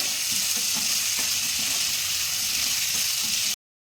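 Onions fry for a mutton curry, giving a steady, close hiss of sizzling oil with faint stirring clicks underneath, continuous until it cuts off abruptly.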